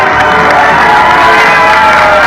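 A large crowd cheers and shouts loudly and continuously, a dense wall of voices with no break.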